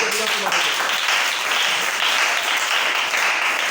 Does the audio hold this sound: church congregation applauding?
yes